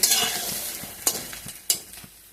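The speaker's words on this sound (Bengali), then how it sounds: "বাকি কিছু বড়া ছিল, ওগুলিও ভেজে নিচ্ছি।" Lentil fritters (bora) fry in hot oil with a steady close sizzle, broken by a few sharp scrapes and clinks from turning them.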